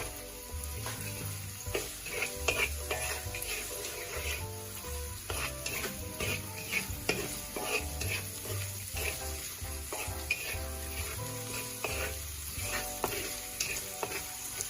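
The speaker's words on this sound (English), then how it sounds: "I'm going to fry up the onions here. Saute that until it's clear color." Onions sauteing in a pan for Filipino pork sparerib afritada, a steady close sizzle with frequent scraping and stirring clicks throughout, no voices.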